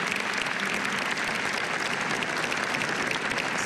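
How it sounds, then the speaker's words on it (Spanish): Dense, steady applause from an audience at a formal Mexican government event welcoming a gender-parity legislature, loud and continuous throughout with no break. "Se merecen un aplauso"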